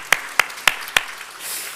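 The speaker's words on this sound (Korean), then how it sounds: "우리 축하의 박수 한번 올려드릴까요?" At a Sunday church service, four crisp, evenly spaced claps ring out close by, followed by a faint trailing hush.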